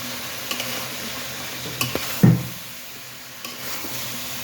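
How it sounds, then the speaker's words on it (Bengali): A spoon stirs chunks of papaya into duck meat cooking with spices in a pan, giving a few scraping knocks over a soft, continuous sizzle, with no voices. "এখন দিয়ে দিচ্ছি পেঁপে ভালো করে মিক্স করতেছি পেঁপে দিয়ে"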